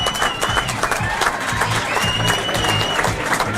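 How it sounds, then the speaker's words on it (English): A football crowd applauds steadily after the team photograph before kick-off at an Andover New Street versus AFC Whyteleafe non-league match, with dense, continuous clapping close by and a few high whistles cutting through. "And the applause that follows."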